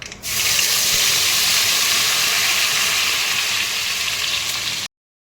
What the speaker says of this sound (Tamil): அடுப்பை சிம்மில் வச்சுட்டு நம்ம அரைச்சதை ஊற்றிக்கலாம்.